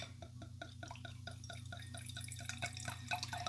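Apothic Inferno red wine pours into a glass with a steady, gurgling trickle and rhythmic glugs over a low background hum, close by and moderately loud.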